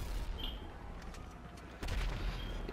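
Gunshots in GTA 5 Online ring out as scattered sharp cracks over a low ambient rumble, with a heavier burst of fire arriving near the end.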